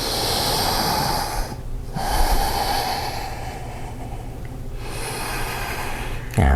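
Slow yoga breathing, long airy inhales and exhales repeated at a calm pace, close and fairly loud, with a short sharp breath at the end.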